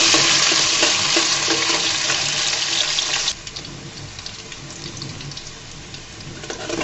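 A steady, loud sizzle of potatoes frying in a pan, dense and hissing throughout, softening partway through.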